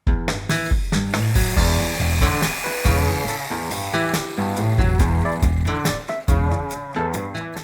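A jigsaw buzzes through pallet wood in loud rapid bursts, its pitch shifting as the blade cuts, with brief pauses between passes.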